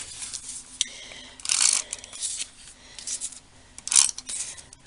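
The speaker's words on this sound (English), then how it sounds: "I'm just going to use some tape runner." A tape runner rolls adhesive onto mat paper for handmade cards, giving short scratchy rasps and clicks in a few separate bursts, close and fairly quiet.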